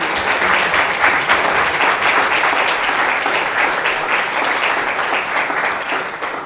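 An audience applauding UN-Habitat Executive Director Maimunah Mohd Sharif after her valedictory talk, loud, dense, steady clapping from a full hall, continuous throughout with no voices on top.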